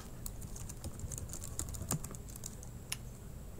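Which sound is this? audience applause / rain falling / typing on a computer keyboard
typing on a computer keyboard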